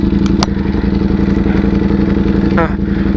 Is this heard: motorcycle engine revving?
yes